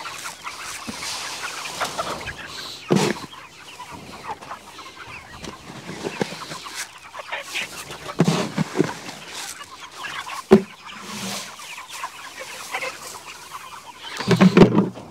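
Chickens cluck and squawk around a farm waterer in an atypical poultry flock, with scattered calls through a steady backyard background and a louder burst of clucking near the end.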